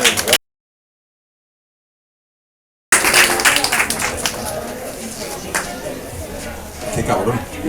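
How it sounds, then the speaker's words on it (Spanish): Applause from the audience at a zombie party presentation in Valencia, brief and up close after a gap of silence, broad crackling claps that ease into a lighter patter. "Un aplauso para Mike Diego."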